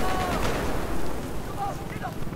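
Dense gunfire from a Battlefield 4 multiplayer match on the Siege of Shanghai map, a continuous loud rattle of shots and blasts filling the whole stretch.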